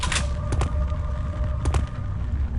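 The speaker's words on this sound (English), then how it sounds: "That spirit bomb almost got me." Spirit bomb blast in Return to Castle Wolfenstein, a series of sharp crackling bursts, two or three distinct pops and booms over a low rumbling bed, fairly loud and close.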